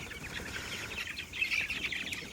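Kadaknath and native country chicks cluck and peep close by, in a busy scatter of short, high calls with no talk.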